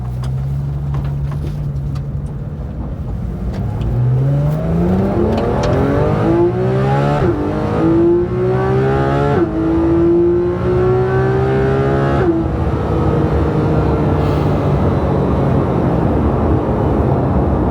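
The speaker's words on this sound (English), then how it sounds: "for me personally, this is the best sounding 6-cylinder engine" A Porsche GT3 RS six-cylinder engine revs hard and climbs through the gears, its pitch rising repeatedly with brief shift breaks, loud and close.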